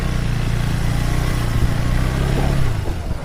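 A 2025 KTM Adventure 390 S motorcycle rides along a road, its engine a steady, close mid-pitched drone with slight swells in revs under continuous wind rumble.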